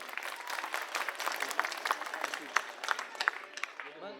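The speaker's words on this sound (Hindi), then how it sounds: "एक बार जोरदार तालियां अपने लिए बजा लीजिए आप।" A crowd claps at a political rally, a dense spread of hands with sharper individual claps rising out of it, moderately loud and close.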